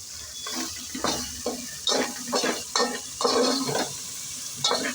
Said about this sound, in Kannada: ಜಿಂಜರ್ ಗಾರ್ಲಿಕ್ ಪೇಸ್ಟ್ ಎಲ್ಲ ಚೆನ್ನಾಗಿ ಫ್ರೈ ಆಗ್ತಾಯಿದೆ.